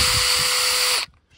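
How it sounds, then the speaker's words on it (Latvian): Small battery-powered hand drill boring into garden soil for planting potatoes, a steady high-pitched whine running for about a second before cutting off abruptly. "Šitais tāds urbītis nopirku internetā."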